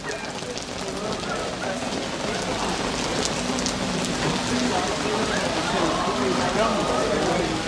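Steady rain falls throughout, a dense continuous patter with people talking over it now and then.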